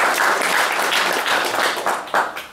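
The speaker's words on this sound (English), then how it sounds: "Big round of applause for Eric, please" Conference audience applauding a speaker at a tech talk on Hashicorp Vault, a short burst of close, bright clapping from a modest indoor crowd that swells and fades unevenly.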